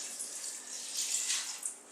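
Water being poured into a pot of chili with tomato sauce, a steady hissing splash lasting a couple of seconds, close and fairly loud with no talk.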